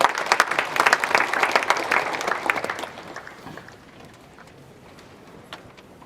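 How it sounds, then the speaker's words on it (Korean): Audience at a church pastors' seminary special seminar claps loudly to welcome a guest lecturer, dense applause for about three seconds before tapering off to scattered claps and room noise. "우리 박수로 모시겠습니다."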